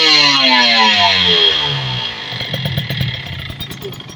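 A Kawasaki Ninja RR motorcycle, freshly serviced carburetor and vacuum membrane, revs up to around 6000 rpm close by, a loud rising engine whine that then drops back to a rough, pulsing idle.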